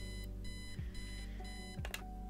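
Alarm clock ringing in the Kathy Rain video game, set in the 1990s: a steady repeating electronic beeping pattern, close and loud, running throughout with a few soft clicks and thuds over the top, no voices.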